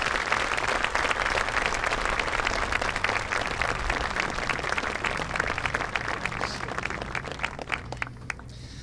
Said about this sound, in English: Let's have one final round of applause for all four of our distinguished alumni.